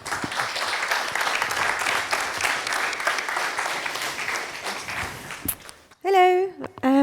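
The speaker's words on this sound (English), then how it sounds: "I would like you a round of applause for Jenny" A conference audience applauds steadily for about five seconds, then the clapping fades and a single speaker begins talking.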